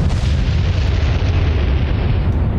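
A deep, continuous roar of an enemy ship blowing up in the naval combat game Atlantic Fleet, loud and rumbling with a broad explosive wash that sustains throughout.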